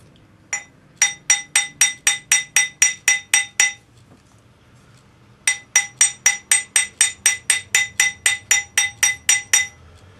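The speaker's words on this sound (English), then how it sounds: "I'm going to use the cross pane hammer." A cross peen hammer strikes a metal ring in two fast runs of about a dozen evenly spaced, bright ringing blows, each with a metallic ping, separated by a brief pause, close and loud with no talk.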